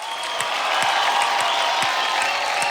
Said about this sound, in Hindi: एक बार जोरदार तालियां मारिए आदित्य के लिए